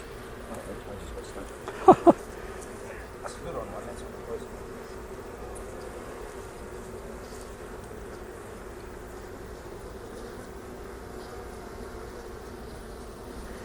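Honey bees buzz in a hive as the colony builds honeycomb, a soft steady hum throughout with a couple of sharp knocks early on and people talking quietly nearby.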